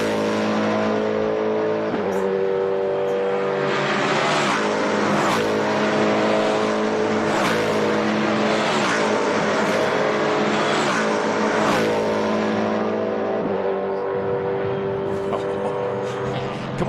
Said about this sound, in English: let's crank it up at home and have a listen to these amazing S5000 cars